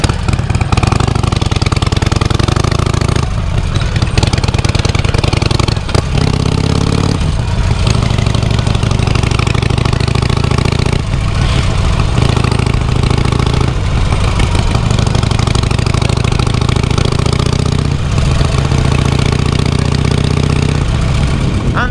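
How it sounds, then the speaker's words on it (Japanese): A Harley-Davidson XL1200X Forty-Eight motorcycle fitted with an aftermarket muffler idles close by, giving a loud, steady, lumpy rumble that carries on unbroken the whole time, with no voices. "こういうバラバラ音がなんか今までのショートショットよりも なんかはっきりしっかり聞こえるようになった"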